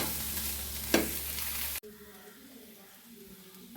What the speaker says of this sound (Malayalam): നല്ല ഫ്രൈ ആകട്ടെ.